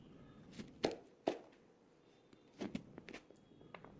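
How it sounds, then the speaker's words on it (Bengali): Knife cutting a peeled raw mango into four pieces: a few quiet, separate chopping knocks against a board, spaced irregularly with soft handling sounds between. "এবার মাঝখানে কেটে চার টুকরো করে নিচ্ছি"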